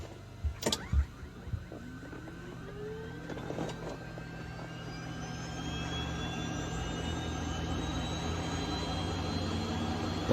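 An aircraft engine starts up for propeller balancing. Its whine climbs and builds steadily into a loud, continuous drone after a few thumps and clanks at the start.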